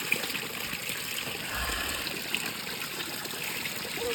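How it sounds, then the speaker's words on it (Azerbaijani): Water seeps and trickles over stones at the source of a kəhriz, an old underground channel in Hadrut: a soft, continuous babble, faint and close, with no voices. "Buradan su gəlir, daşlarla süzülür."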